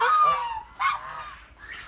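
Two or three loud, nasal honking calls from Barbary (Muscovy) ducks near a duckling nursery pen, close by and spaced apart, with no talking.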